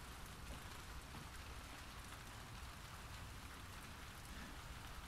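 Steady rain falling in the video game The Last of Us Part II, a soft, even hiss of drops on surfaces, constant and fairly faint throughout with no other sounds.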